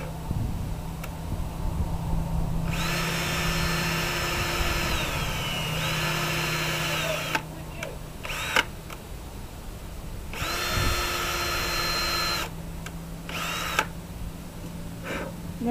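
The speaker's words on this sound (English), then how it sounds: "So I got to countersink this. So I need to get a bigger bit." A power drill fitted with a countersink bit bores into wood for screw holes while installing a corner feeder, its motor whining in several long bursts separated by brief pauses, close and loud.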